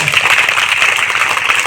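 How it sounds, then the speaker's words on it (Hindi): An audience clapping loudly with both hands raised, a dense, continuous applause at a Gayatri Pariwar youth motivation gathering. "जोरदार ताली बजाइए"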